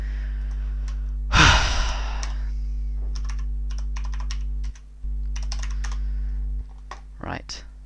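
Computer keyboard typed on at a desk during a Minecraft mod tutorial: scattered close clicks and short bursts of keystrokes, with a loud breathy sigh near the start.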